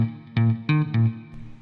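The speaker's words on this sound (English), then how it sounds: "We'll have a little bit of digital reverb and delay mixed in with the room" An electric guitar played through Amplitube 5 with digital reverb and delay mixed with room sound picks three distinct notes in a minor blues phrase, each ringing with a smeared, effected tail, close and clear without talk.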